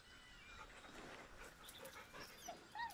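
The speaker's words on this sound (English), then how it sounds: "The dog whimpers nervously," A dog in the video game Baldur's Gate 3 whimpers nervously, with soft panting and high thin whines rising near the end, close and fairly quiet with no talk over it.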